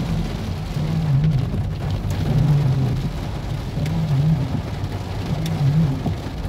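Heavy rain falls during a thunderstorm in Doetinchem, a dense, constant hiss with low thunder rumbling in repeated rolls underneath.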